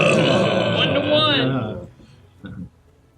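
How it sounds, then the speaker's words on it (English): A long, loud, drawn-out burp from a person during a tabletop role-playing game, rumbling for nearly two seconds before trailing off, followed by a brief muffled vocal sound. "You hear burp"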